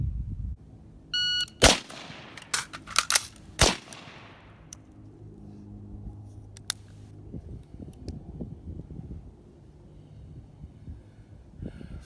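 Sharp, loud rifle shots from a PWS MK1 SBR, a rapid cluster of cracks with ringing steel-target clangs and a shot timer beep, then a pause for a reload and one more shot before quieter handling noise.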